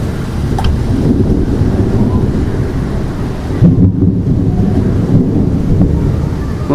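Severe thunderstorm in Wentzville, Missouri, with heavy rain roaring steadily and loudly close by, deep thunder rumbling underneath and gusts buffeting the microphone, with no talk.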